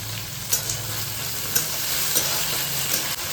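Green chillies fry in a pan with a soft continuous sizzle, punctuated by a few faint pops and stirring taps, close by and without voices.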